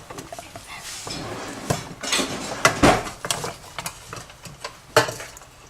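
Fruit being stirred in a cooking pot while making preserves, a spoon scraping and knocking against the pot in irregular close clatters over a soft background hiss.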